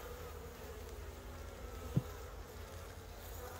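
Honey bees buzz at a hive during a winter inspection, a faint steady drone with one brief louder tap near the middle, no voices.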